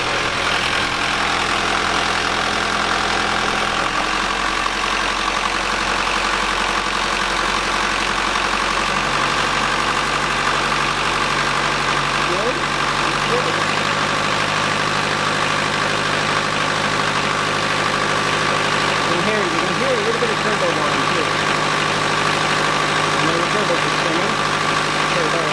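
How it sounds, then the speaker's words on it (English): A steady engine drones loudly at a constant 1500 RPM, its low hum shifting pitch slightly partway through, with faint voices underneath. "Go ahead and give me 1500 RPM, Heidi, and I'll check the engine."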